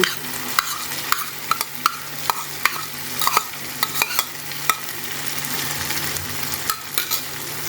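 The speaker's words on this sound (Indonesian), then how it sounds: "kemudian kita masukkan teri serta jengkolnya." Anchovies and young jengkol stirred into green-chili sambal frying in a pan, with a constant soft sizzle under repeated sharp scrapes and clacks of a spatula against the pan, close and rhythmic.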